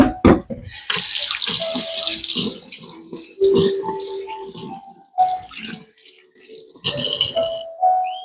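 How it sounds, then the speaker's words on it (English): Hands rinsed under a running kitchen tap, water splashing and gurgling in fits and starts, with brief stops and a few knocks and rattles in between; no talk. "Let me rinse my hands off again."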